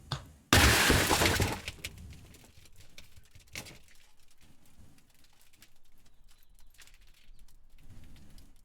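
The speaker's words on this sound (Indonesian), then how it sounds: "Kemudian ada Glass Explode into Debris." A sharp glass explosion bursts in loudly, with shards shattering and scattering into debris for about a second before a few lighter tinkling fragments trail off into near silence.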